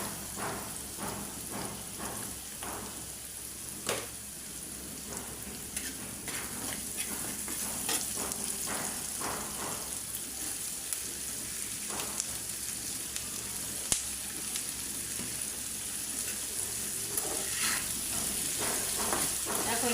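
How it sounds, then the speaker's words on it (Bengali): Bitter gourd fries in a pan with a steady soft sizzle, while a spatula stirs it and adds irregular scraping clicks throughout. The sound stays close and even, with no speech. "এখন শুধু নাড়বো চুলা বাড়াইয়া দিয়া।"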